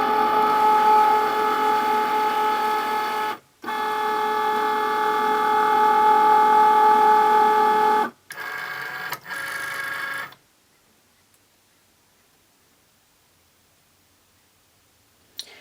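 A Cricut Maker cutting machine whirs and hums steadily as it loads a fabric mat under its tabs. Two long motor runs come first, then shorter mechanical clicks and whirs, and the machine falls silent.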